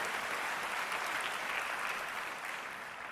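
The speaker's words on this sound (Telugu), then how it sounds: "గట్టిగా చప్పట్లు కొట్టి దేవుని మహిమపరచండి." A church congregation claps loudly together, a thick continuous roar of hands that holds steady from start to finish and fades slightly at the end.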